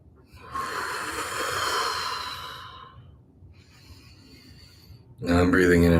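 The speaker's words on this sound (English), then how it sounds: "Now I'm breathing in and out through the mouth just so you can hear my breath more easily" Two slow, audible breaths are drawn in and out through the mouth, each a long airy rush close to the microphone. A person starts speaking at the end.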